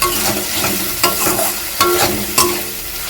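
Spice masala for a spicy Bengali egg curry fries loudly in a pan, with a steady sizzle and four or five sharp, rhythmic stirring scrapes against the metal.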